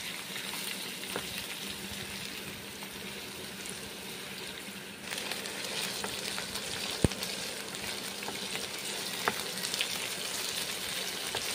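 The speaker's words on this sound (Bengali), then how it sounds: "পনিরগুলো কড়াইয়ে ছেড়ে দিলাম, পনিরগুলো ভেজে নিচ্ছি।" Paneer cubes frying in oil in a wok, with a steady, close sizzle that runs unbroken throughout, brief stirring clatters, and a sharp metallic tap partway through.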